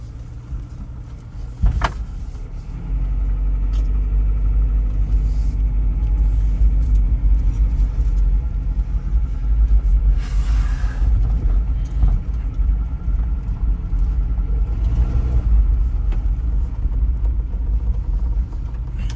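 A 1995 Geo Tracker on the move gives a steady, loud low engine rumble with road noise that holds evenly throughout after a brief quieter start, with no talking.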